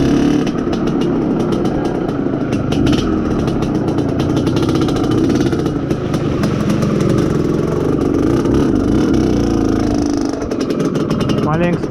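An Izh Planeta Sport motorcycle engine running steadily during break-in on a muddy day, a loud continuous buzzing drone that holds for the whole stretch with slight throttle variation, with a voice speaking over it.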